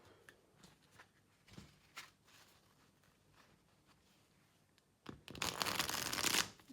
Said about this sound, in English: That riffles very nicely indeed, very smooth.